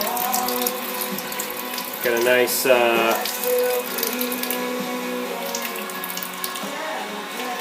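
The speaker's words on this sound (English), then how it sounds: "nice sparge water coming in." Sparge water runs steadily into a home-brewing vessel with a constant rushing flow; someone speaks briefly over it, with some tonal mechanical whine in the background.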